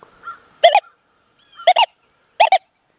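Three short electronic beeping tones from a Deus 2 metal detector in a gold field, in quick pairs about a second apart, loud against a silent background.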